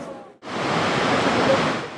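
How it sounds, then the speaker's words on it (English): Geysir in Iceland erupts in a rare double spout, a sudden rushing roar of water and steam that bursts in after a brief lull and holds loud and steady. "A double spouting. A rare event, and I was lucky enough to have captured it on video."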